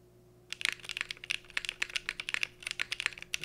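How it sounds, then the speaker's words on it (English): Close, crisp keystrokes on a Cycle 8 mechanical keyboard fitted with Ice Chain Doll switches, a Ghost Dragon spacebar, case foam, a PC plate and GMK Lime keycaps, clattering in an irregular run after a brief quiet start. "Last sound test, we'll be using Ghost Dragon Spacebar, Ice Chain Doll switches on everything else, just case foam, PC plate, and GMK Lime."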